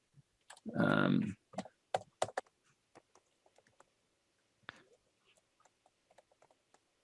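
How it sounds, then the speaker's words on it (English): Laptop keyboard typing during a planning board meeting: scattered soft clicks and taps, close but faint, in irregular bursts, with a brief loud noise near the start and occasional voices. "I hate typing on the laptop"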